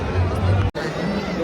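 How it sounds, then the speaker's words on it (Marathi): A crowd on a busy Pune street at the Dagdusheth Ganpati festival makes a steady murmur of chatter and footsteps, with a voice speaking over it and a brief dropout midway. "परत गर्दीच्या रोडावर दगडूशेठ गणपतीची गर्दी बघा तुम्ही फक्त"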